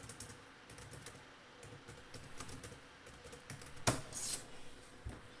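Keyboard typing of a Python manage.py makemigrations command, a steady run of light, close key clicks with a sharper clack near the end, no voices.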